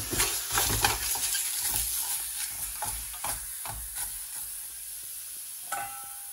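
Meat being stirred in a dry pot with no oil for Senegalese mafé, giving a steady sizzling, frying crackle with repeated scraping strokes of the spoon, close and fairly loud, with no one talking.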